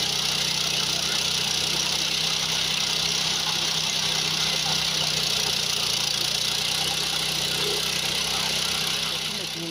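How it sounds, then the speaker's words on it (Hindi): A 7 HP engine on a trencher machine runs steadily and loudly throughout, a continuous mid-pitched drone with no pauses. "अच्छा, जैसे इंजन सर 7 HP का है।"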